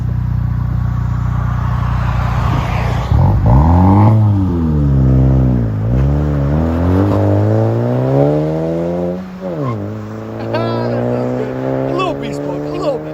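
A 2021 VW GLI with a 2.0 turbo engine and a muffler delete idles with a deep, steady exhaust drone, then is revved several times, its pitch climbing and falling. It sounds close and loud, with talk over it.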